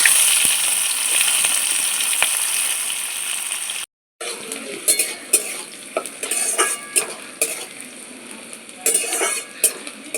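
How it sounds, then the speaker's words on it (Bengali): Chopped onions with whole garam masala and cumin frying in a small amount of oil, a bright continuous sizzle broken by a short gap and followed by repeated stirring scrapes and clinks of a spoon against the pan. "পেঁয়াজটা হালকা লাল করে ভাজা হয়ে গেছে"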